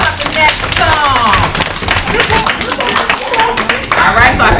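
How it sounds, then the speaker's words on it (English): Audience applause at a live street-music performance by a spoons player, dense clapping sustained throughout at close range with crowd noise and some voices mixed in. "Let's give him a round of applause while he sets up the next song."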